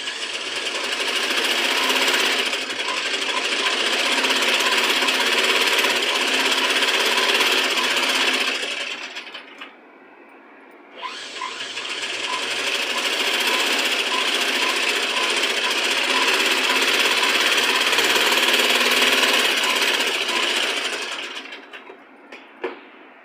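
A sewing machine stitching invisible piping with a presser foot, running in two long, loud rapid bursts of stitching separated by a short pause, close and without talk.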